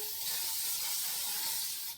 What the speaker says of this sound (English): And I just spray that down best I can.